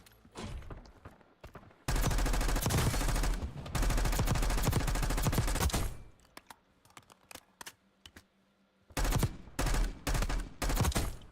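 Loud Call of Duty Warzone gunfire in long sustained bursts, followed by quieter gaps with scattered single shots, then a series of short, rapid bursts near the end.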